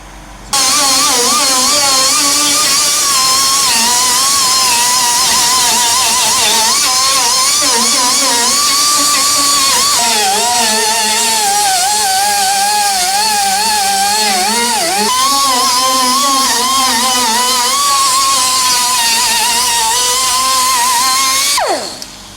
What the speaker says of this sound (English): I'm just going to see if I can get some of that scale and rust off.